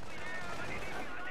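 Rapid gunfire crackles in a Company of Heroes 1v1 match, with dense overlapping shots filling the whole short stretch at moderate loudness.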